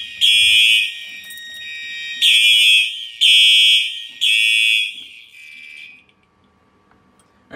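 A home fire alarm system under test sounds loud, piercing electronic bursts, four to five pulses of uneven length. The alarm is then silenced, leaving near silence.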